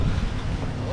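Strong wind gusting across an outdoor work area by the water, a steady broadband rush that covers the whole moment.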